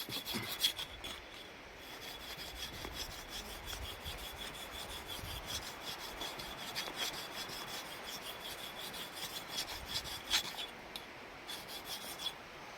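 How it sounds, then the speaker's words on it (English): A blade scraped back and forth on a wet sharpening stone that builds up a grey slurry, making a continuous gritty rasping that is close and steady, with a few sharper strokes and no talking. "you will see that grey slurry appearing on the sharpening stone"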